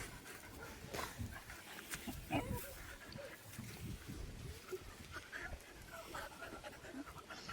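Large dogs pant steadily and close by, a rough rhythmic breathing that carries on through the whole stretch with no talk over it.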